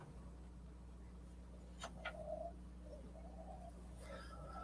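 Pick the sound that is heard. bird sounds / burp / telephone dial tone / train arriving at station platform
bird sounds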